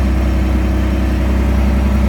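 A truck engine idles in a garage with the door open, a loud, steady low rumble that holds an even pitch throughout with no revving and no voices.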